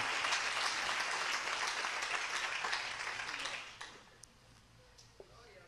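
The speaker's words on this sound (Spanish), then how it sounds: "aplauda al Señor" A church congregation applauding, a sustained wash of many hands clapping that fades out after a few seconds, leaving a quiet room with a few faint knocks.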